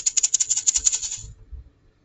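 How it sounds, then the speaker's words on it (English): A small handheld shaker egg rattles in a quick burst of about a dozen bright, even shakes, close and fairly loud, then stops while a faint low rumble trails off. "You'll need a little shaker egg that you can shake when I give you the signal."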